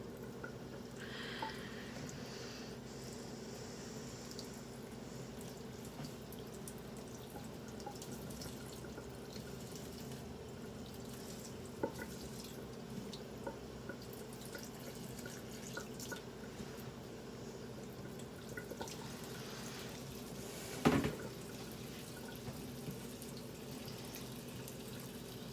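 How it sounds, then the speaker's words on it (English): Water runs from a tap in a steady, quiet trickle with faint drips and small splashes, a brief louder splash near the end. "Water on just a little more."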